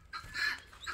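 Chickens and guinea fowl on a farm give a short burst of squawking clucks, fairly faint, with one louder call in the middle and no talking.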